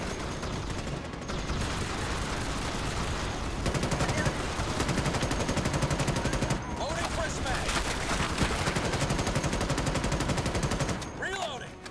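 Dense, sustained gunfire from the Starship Troopers: Extermination video game, a near-continuous rattle of rapid automatic shots lasting most of the stretch, with brief lulls and a few sharper bursts.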